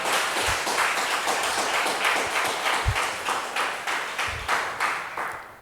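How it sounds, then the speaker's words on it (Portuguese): A church congregation claps together, a fast, even patter of many hands that runs steadily for several seconds and tapers off toward the end, with no talking over it. "Você pode dar uma salva de palmas ao Senhor?"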